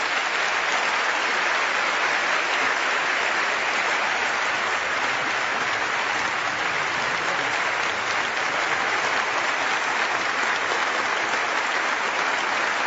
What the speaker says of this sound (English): So please join me in a round of appreciation.